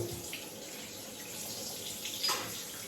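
Hot water running from a tap into a sink, a soft steady hiss and gurgle at low level, swelling slightly near the end.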